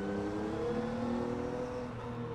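A Triumph Tiger Sport 800 motorcycle with a quick shifter is ridden under power, giving a steady, loud engine drone with road and wind noise throughout.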